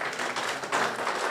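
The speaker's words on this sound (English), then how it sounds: "can we please put our hands together for a round of applause?" An audience at a book launch applauds the ambassador, a brief, dense burst of many hands clapping at moderate distance that carries on throughout.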